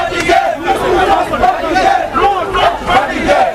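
Protest marchers of workers and students shout and jeer in a loud, chanting crowd at a visiting minister, with rising and falling waves of many voices close by.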